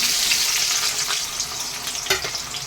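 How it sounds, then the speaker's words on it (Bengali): Onions dropped into hot oil for mutton biryani sizzle loudly and close up, a dense continuous hiss of frying with a brief crackling burst partway through and no talking. "এদিকে দেখুন আমার তেলটা গরম হয়ে গেছে, পেঁয়াজগুলো আমি সব দিয়ে দিচ্ছি।"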